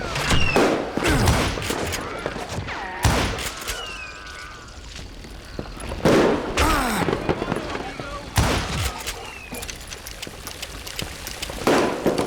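Repeated loud gunshots and ricochets in the Wild West shooter Call of Juarez Gunslinger, set in a saloon, coming in irregular bursts and single cracks with shouting voices and game sound effects in between.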